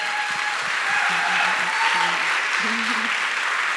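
Audience clapping at a bookstore talk, a steady wash of applause lasting throughout, with a voice briefly speaking over it.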